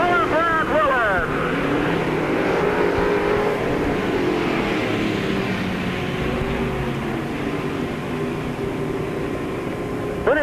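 Race cars roar around Peoria Speedway toward the finish, a loud, continuous engine drone with rising and falling revs, under an announcer's voice.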